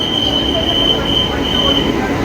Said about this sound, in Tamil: காத்துட்டு இருந்த ட்ரெயின் வந்து வந்துருச்சு.